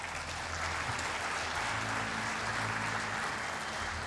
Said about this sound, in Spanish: Pido entonces un fuerte aplauso para don Alfredo Moreno